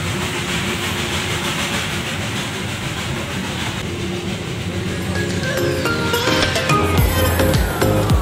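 A steam-hauled Darjeeling toy train runs toward Ghum station, its steady loud rumble and clattering wheels growing heavier over time, with metallic squeals and hissing rising near the end.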